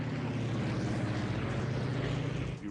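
A Grumman Wildcat fighter diving during the Guadalcanal air battles gives a loud, continuous propeller-engine roar with a steady low drone, heard alone and sustained throughout.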